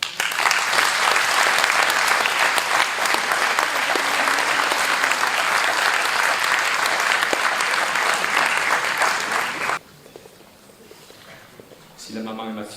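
A hall audience at a mayor's New Year greetings event claps loudly and steadily for a father and son walking on stage, the ovation cutting off abruptly near the end before a brief voice follows.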